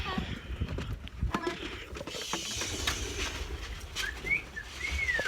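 Pigeons flutter and coo nearby amid outdoor ambience, with a few whistling bird calls near the end and people talking softly.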